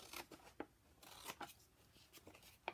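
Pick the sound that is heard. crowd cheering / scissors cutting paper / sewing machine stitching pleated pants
scissors cutting paper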